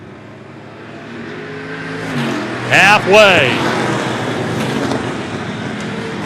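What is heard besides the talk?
short track race cars racing into a turn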